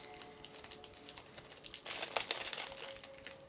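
Tape crinkles and tears as it is wrapped around a tattoo pen battery, close and fairly quiet, in steady rustling bursts that grow busier and louder midway.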